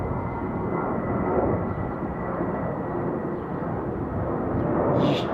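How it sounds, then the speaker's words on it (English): Airbus A319 airliner heading out toward Phoenix, a continuous broad jet engine roar that holds steady and swells slightly near the end, heard alone without talk. "Here's our Airbus A319 headed to Phoenix."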